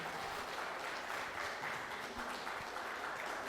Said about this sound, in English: Please keep clapping till he comes forward.